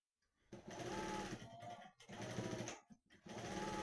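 An electric sewing machine stitching a blouse piece: three close bursts of rapid, loud mechanical whirring and needle chatter, separated by brief pauses.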